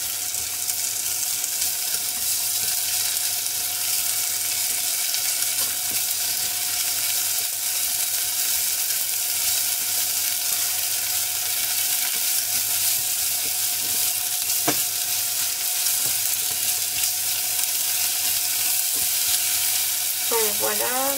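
Courgettes and onions sizzle steadily in a hot frying pan, a loud continuous hiss with occasional stirring scrapes, ahead of grilled turkey escalope in a coconut curry dish.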